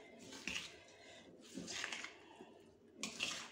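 Vegetables being stirred into a thick cake batter, giving three soft, wet squelching bursts of mixing spaced about a second and a half apart, close and quiet with no talking.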